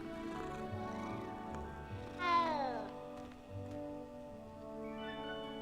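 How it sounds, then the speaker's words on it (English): Cat in the Hogwarts Legacy video game meowing while being petted, a clear drawn-out meow in the middle over a low hum of game music and ambience. "Pet the little kitty."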